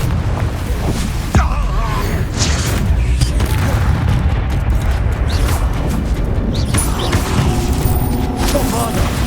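Spell explosions from Confringo blasts in Hogwarts Legacy during a duel, heavy booms and crashes running throughout amid combat noise and a voice, loud and dense.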